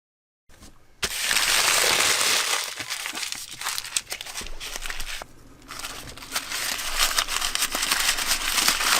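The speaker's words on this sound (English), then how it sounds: "when you first crumple it, it makes a lot of noise" Loud, close crinkling and crushing of homemade paper tape as it is first crumpled, continuous rustling with a short pause midway.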